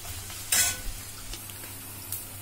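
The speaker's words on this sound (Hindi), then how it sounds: "अब मैं मैश किया हुआ आलू इसमें डाल रही हूँ। अभी से 2 मिनट के लिए यूं चलाते रहूंगी" Mashed potato is fried and stirred in a pan for a cheese puffed bread sandwich: a soft steady sizzle broken by a sharp scrape or clatter of the spoon and a few lighter knocks.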